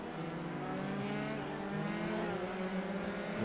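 A Formula 3 race car drives in the slipstream at the Nürburgring GP circuit, its engine a sustained high, buzzing whine with shifting harmonics, loud and continuous.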